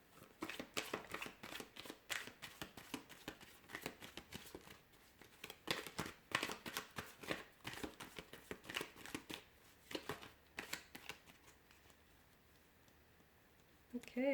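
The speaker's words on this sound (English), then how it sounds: "let's give the cards a shuffle" Rapid riffling and flicking of cards, repeated in quick bursts, close by, ending in quiet.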